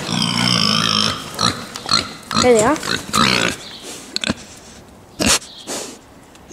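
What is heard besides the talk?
pigs on a farm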